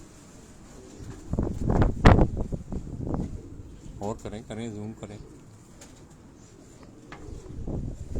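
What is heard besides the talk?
pigeons cooing on a rooftop in Karachi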